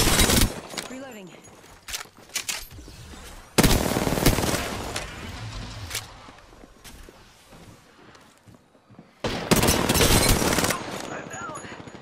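Rapid bursts of automatic gunfire in the Apex Legends video game, with loud volleys around the start, middle and end separated by quieter stretches. A player talks over the action.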